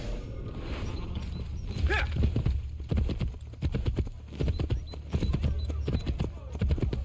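Horse hooves clip-clop in a steady, close trotting rhythm through the whole stretch of Assassin's Creed Brotherhood gameplay, loud and regular, with a faint whinny early on and talk over the top.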